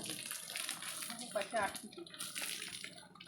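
Water splashes and pours steadily onto vegetable plants such as tomatoes in a field during morning watering, close and fairly quiet, with people talking over it.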